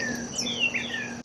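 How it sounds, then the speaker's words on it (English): Several birds chirp and trill together outdoors at moderate loudness over a steady insect-like hum, their thin calls overlapping and continuous, with no talking. "At least the birds are happy."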